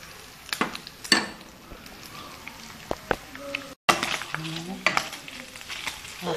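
Food fries lightly in a quarter cup of oil in a pan, a soft sizzle under occasional stirring scrapes and clinks of utensils against the pan.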